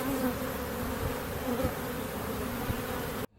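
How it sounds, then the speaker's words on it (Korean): Honeybees buzzing, a dense continuous drone of many insects close by with a steady pitch and small swells, cutting off abruptly at the end; no speech. "겨울에는 6개월, 여름에는 45일 정도 사는 꿀벌들은 말벌이 쳐들어오면 수분내로 죽게 되지만 절대 망설이지 않습니다."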